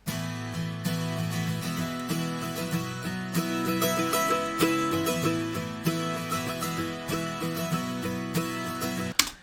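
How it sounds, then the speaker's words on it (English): A bright mandolin strums the same chord over and over in a steady rhythm, layered within a fuller country band arrangement. "we also added a mandolin in the chorus to give it a little bit more shine"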